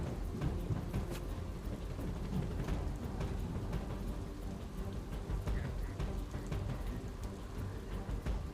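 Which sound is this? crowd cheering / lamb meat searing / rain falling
rain falling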